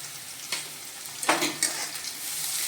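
Chopped tomato dropped into a pan of frying peanuts for rava upma, a soft steady sizzle with a few scraping stirs and a brief louder hiss as the pieces hit the hot oil, close but fairly quiet.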